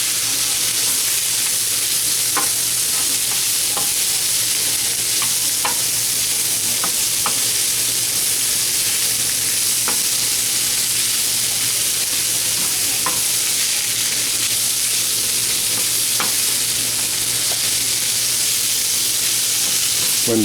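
Shallots, mushrooms and sun-dried tomatoes frying over a high flame, a dense continuous sizzle with scattered pops and utensil ticks, loud and close for the whole stretch, no talking.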